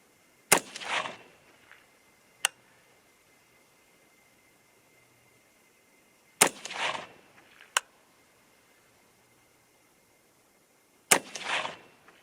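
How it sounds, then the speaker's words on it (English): A 6.5 Grendel rifle with a 24-inch barrel, shooting 90gr Nosler Varmageddon rounds, fires three loud, close shots about five seconds apart. Each sharp crack has a short echo and is followed by a faint distant tick. "You guys might notice I kind of shoot rapid fire."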